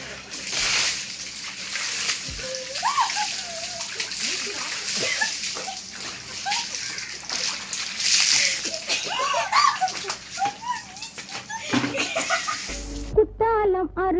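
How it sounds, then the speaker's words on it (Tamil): A bucket of water is poured over a person's head, with repeated splashes and sloshing across the stretch. Voices chatter and giggle throughout. "தண்ணி ஊற்ற போகிறாங்க என் மேலே."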